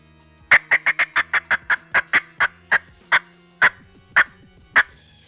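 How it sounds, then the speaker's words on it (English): A wild turkey hen cackles in a rapid run of sharp clucks that slow and spread out toward the end, loud and close with no talking. "the cackle is something that you'll hear a lot of times either when turkeys are flying down off their roost"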